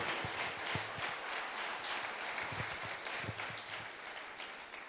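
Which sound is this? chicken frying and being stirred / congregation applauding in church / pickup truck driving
congregation applauding in church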